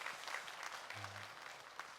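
A church congregation gives encouraging applause after an offering, a faint, even patter of many hands that continues steadily for two seconds without talk over it.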